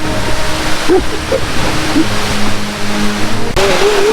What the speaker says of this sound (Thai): ตอนนี้นะคะเราก็เดินทางมาถึง ชั้นที่เจ็ดของน้ำตกเอราวัณแล้วนะคะ